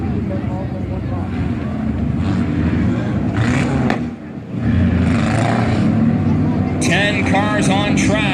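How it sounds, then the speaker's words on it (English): Four-cylinder class race cars in a heat race at Valley Raceway, their engines droning steadily and continuously on the track, loud and close, with a commentator talking over them throughout. "Cars on track"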